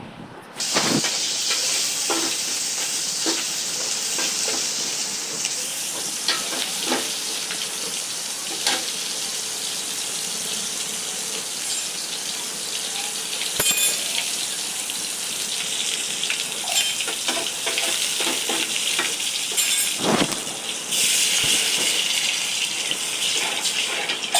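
Food sizzles and hisses steadily in a hot pan while being stirred, with scattered scrapes and clinks of the utensil against the metal, loud and close throughout with no talking.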